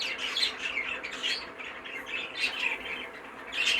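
A light green cock bird, a budgerigar-type show bird from the green family, squawks and chirps in repeated sharp bursts, close and fairly clear against a quiet background.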